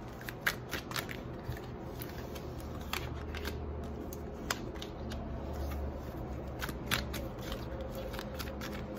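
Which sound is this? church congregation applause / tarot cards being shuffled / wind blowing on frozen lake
tarot cards being shuffled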